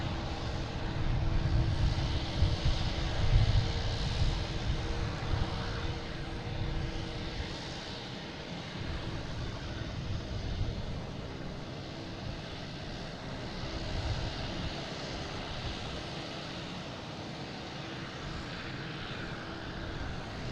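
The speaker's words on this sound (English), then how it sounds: "Air France here passing in review." An Air France airliner passes by at Boston Logan International Airport, its jet engines giving a steady broad roar that swells slightly early on and then holds at a moderate distance without fading away.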